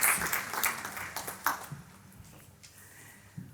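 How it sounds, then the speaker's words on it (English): A conference audience gives a round of applause that starts fairly full, then thins out and fades to a few scattered claps by the end. "So let's have another round of applause."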